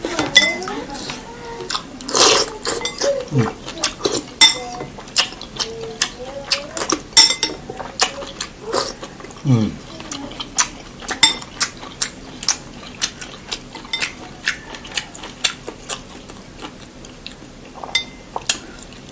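Spoon clinking and scraping against a bowl of Sop Saudara, a Pangkep beef soup from Makassar, in sharp irregular taps spread across the meal, with little else around them.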